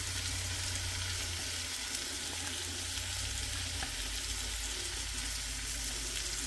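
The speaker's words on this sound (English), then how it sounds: "I'm going to take my veggies and throw them in." Vegetables sizzle in salted butter in a hot pan, giving a steady, close crackle with occasional soft stirring sounds and no talking.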